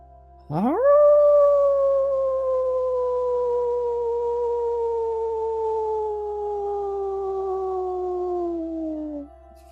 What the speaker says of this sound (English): Howl now in this moment.